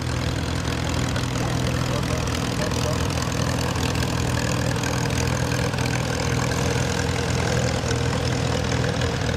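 A homemade 2.5 horsepower tractor engine runs steadily and without a break at a farm show. Its dense, droning hum is loud and continuous for the whole stretch, with no talk over it.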